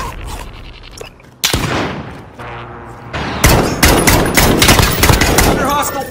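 Gunfire rips through a video game battle in an 80s warzone: a lone shot, then dense rapid machine-gun bursts and single cracks that build into a loud, sustained fusillade.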